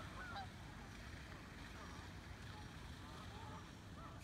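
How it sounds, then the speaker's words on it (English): Canada geese honk faintly in the distance as a flock comes in to land on a large pond, with a few brief calls over a steady rush of wind and outdoor noise. "man, look at all them geese coming in."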